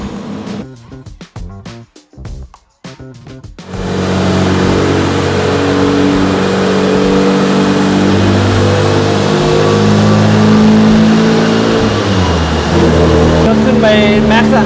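A Porsche 924 engine revs on a dyno, with short sharp blips at the start and then a long, loud, steady high-rpm drone that holds near the top of its range before dropping away at the end.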